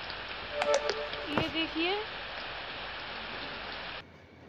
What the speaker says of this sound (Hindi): गाइस बारिश चालू हो गई है